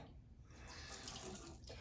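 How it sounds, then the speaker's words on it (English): Tap water runs steadily from a faucet over a small edge brush, a continuous close splashing hiss with no speech. "So I just run my brush under some water."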